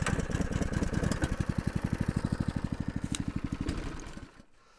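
The engine of a small motorized transport near a forest dugout chugs with a fast, even pulsing beat up close, then cuts out abruptly and leaves near silence.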